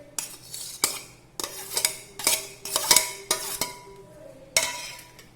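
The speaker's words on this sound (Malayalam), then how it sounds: "അപ്പോൾ നമുക്ക് തക്കാളി, പച്ചമുളകും സവാള ഉള്ളിയും കൂടെ നന്നായി മിക്സ് ചെയ്യുക." Spoon or utensil clattering against a dish while tomato, green chili and onion are mixed with roasted peanuts for peanut masala, a string of close, sharp metallic clinks and scrapes in an uneven rhythm.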